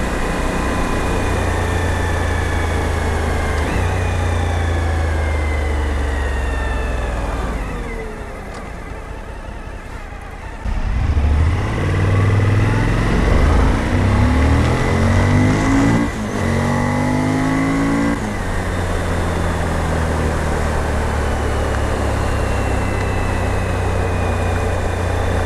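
A motorcycle engine drones loudly while riding at speed, its pitch rising and falling through gear changes, with a brief dip and a surge of revving midway, heavy wind rush throughout.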